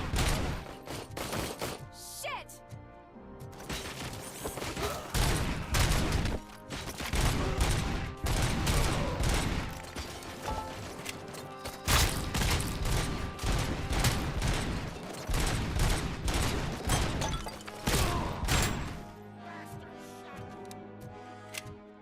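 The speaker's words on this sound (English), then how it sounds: "A lot of grenades." Dense bursts of gunfire and grenade blasts from the RoboCop: Rogue City video game, loud and rapid across the whole stretch, with repeated sharp impacts and ringing booms layered over one another.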